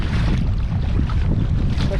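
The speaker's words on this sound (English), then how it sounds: "Paddling against the wind And the waves." Strong wind blasts the microphone while waves slosh around a sea kayak off Malta's coast, making a loud, continuous roar with no pauses.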